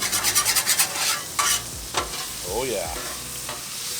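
Food sautéing and being stirred on a Blackstone griddle, with loud sizzling and scraping of a spatula against the flat top, close and continuous, with a brief spoken remark.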